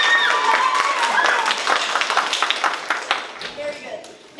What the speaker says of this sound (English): I'd like you to applaud now.